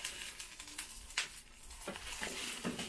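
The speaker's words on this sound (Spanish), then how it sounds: "ahí se está friendo la tortilla ahora." Tortilla frying in a pan, a steady close sizzle with faint crackles and a few brief scraping stirs; no one speaks.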